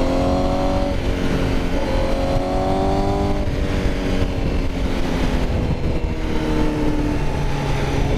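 A 2020 Honda CBR1000RR-R SP sportbike runs in sport mode, its engine droning loud and close with rising and falling pitch as it accelerates through the gears while riding, wind noise underneath.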